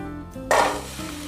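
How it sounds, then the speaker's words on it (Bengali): Spring onions dropped into hot oil in a rice cooker while making chow mein, bursting into a loud, close sizzle that then settles to a steady hiss over a low background hum. "তেলটা গরম হয়ে গেছে। এবার আমি এতে দিয়ে দিচ্ছি পেঁয়াজকলি।"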